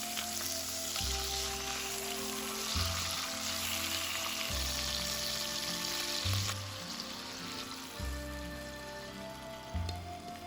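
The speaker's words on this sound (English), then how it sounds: "Then we're gonna sear the salmon head a bit." A salmon head searing in a hot pan, giving a steady loud sizzle and crackle that lasts the whole time with no talk over it.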